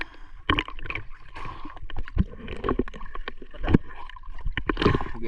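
Splashing and gurgling water with irregular knocks and scrapes as a boat is dragged along by hand in stormy weather, fairly close, with no talking.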